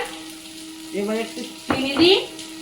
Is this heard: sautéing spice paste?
yes